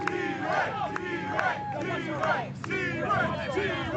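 A wrestling crowd at a New Texas Pro show roars and shouts in a dense, sustained din, with loud whoops and yells rising over the steady noise throughout.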